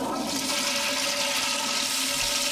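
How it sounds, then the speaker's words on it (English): A toilet flush plays as a sound effect, a loud, steady rush of draining water filling the whole moment with no voices over it. "Give me a toilet flush."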